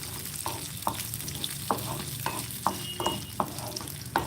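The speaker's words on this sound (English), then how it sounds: "Let the urad turn into little brown in color." Urad dal frying in a teaspoon of oil for kothamalli chutney, a steady close sizzle broken by regular sharp clinks and scrapes of a spoon stirring the pan, with no voices.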